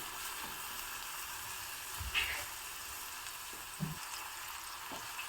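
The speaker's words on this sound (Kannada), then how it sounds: "ಇದು ಸಹ ಚೆನ್ನಾಗಿ ಫ್ರೈ ಆಗಬೇಕು ತುಪ್ಪದಲ್ಲೇ" Food fries in ghee in a pan for an authentic Vidyarthi Bhavan style breakfast, with a steady, faint, even sizzle and a couple of brief soft knocks, and no one talking.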